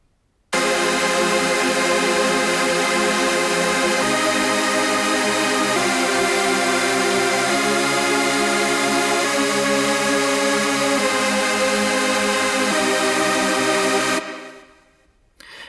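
Synthesizer plays a trance chord progression: lush, sustained pad chords changing every few seconds, steady and full in level, then cutting off near the end.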